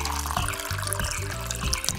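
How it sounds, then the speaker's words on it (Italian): Milk pours into a baby bottle in a steady, close trickle with a faint rising gurgle as the bottle fills. "Versiamo il latte."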